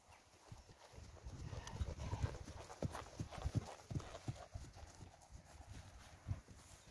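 Hooves of a ridden horse clip-clop steadily through a lesson, the irregular thuds close over a soft, continuous outdoor background, with no clear talk.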